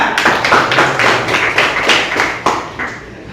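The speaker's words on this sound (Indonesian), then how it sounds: "Tepuk tangan buat Pak Reza." Classroom applause, a roomful of hands clapping together in loose rhythmic bursts, loud and close, tapering off at the end.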